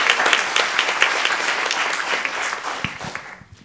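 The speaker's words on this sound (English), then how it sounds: "please give her a round of applause" Concert audience applause, a loud full burst of many hands clapping that starts strong and tapers away over a few seconds.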